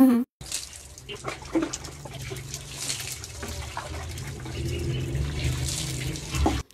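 Water gushing steadily from a hand pump or tap while someone bathes under it, a continuous splashing pour with drips, fairly close and unbroken.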